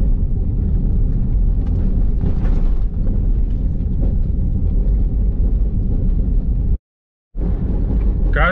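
Car driving on an unpaved road at 60 km/h in Kazakhstan, a loud, continuous low rumble of engine and tyres with one sudden brief dropout near the end.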